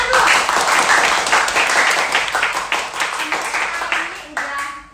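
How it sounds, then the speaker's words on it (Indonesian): An audience at a talk show on work-life balance gives a burst of dense clapping that starts strong and slowly tapers off over a few seconds, with voices talking over it. "Tepuk tangan loh."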